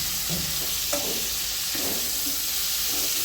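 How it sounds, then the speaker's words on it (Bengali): Onion, ginger and garlic fry together in a hot pan with a steady close sizzle, broken by a few scraping stirs of a spatula. "এই তো পেঁয়াজ আদা রসুন সব কষে নিচ্ছে একসাথে।"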